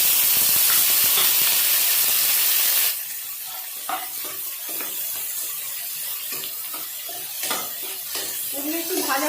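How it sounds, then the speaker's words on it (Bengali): Spices and other ingredients fry in a pan of already boiled dal while a spoon stirs them, giving a steady hiss with scattered scraping and clinking. A loud burst of sizzling at the start settles into quieter frying. "এগুলো একটু ভাজা ভাজা করে নেবো"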